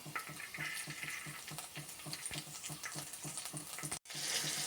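Chopped onions sizzle and crackle in hot oil in a pan, a steady close frying hiss with rhythmic stirring scrapes throughout and a brief break near the end.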